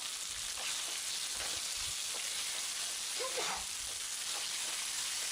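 Chilli chicken fries in a pan with tomato sauce, giving a steady, even sizzle with soft occasional stirring scrapes and no talking.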